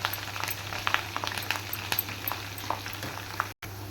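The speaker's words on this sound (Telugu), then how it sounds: "తాలింపు ఇదిగోండి వేగిపోయిందండి ఆపేస్తున్నానండి" Tempering spices frying in hot oil for a mango pickle give a steady, close crackling sizzle with scattered small pops over a low hum, running alone without talk.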